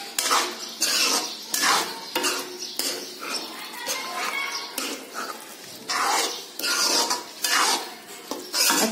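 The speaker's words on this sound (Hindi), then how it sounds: "इसमें हम अपनी सभी मंचूरियन बॉल को ऐड कर देंगे। अच्छे से मिक्स करके" A spoon clatters and scrapes against a pan in rhythmic bursts as veg Manchurian balls are stirred into gravy on the stove, loud and close.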